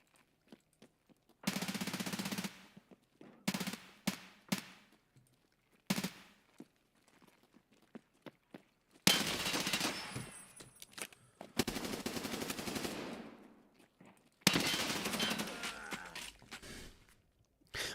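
Machine-gun fire in a fast-paced shooter game, heard as several long, loud rapid-fire bursts with short pauses between them and no talk over them.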